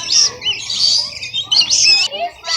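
Pet birds, including a parrot, chirping and calling close by in a quick series of high tweets and whistles, with short pauses between bursts.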